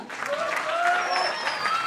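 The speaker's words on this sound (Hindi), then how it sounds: "अंजुम जी के लिए एक बार जोरदार तालियों का चाहिए, फास्टर एंड लाउडर" An audience at a training event claps steadily for a few seconds, with a speaker's voice carrying over the applause.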